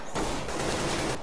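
A dense burst of gunfire in Counter-Strike matchmaking, a loud, sustained crackle of several rapid shots that cuts off abruptly after about a second.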